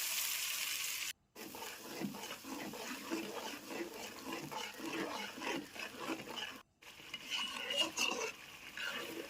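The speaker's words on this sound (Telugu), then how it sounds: "ఈ తరిగి పెట్టేసుకున్న మొత్తం ఎర్రగడ్డలన్నీ కూడా వేసుకొని బాగా దోరగా వేయించుకోవాలి. తర్వాత మనం ఆల్రెడీ చేసి పెట్టుకున్న ప్యూరీ మొత్తం కూడా వేసి బాగా మిక్స్ చేయాలి." Onions frying in oil and being stirred with mushroom curry purée in a pan, a continuous soft sizzle with irregular scraping strokes, fairly quiet and close, broken by two brief gaps.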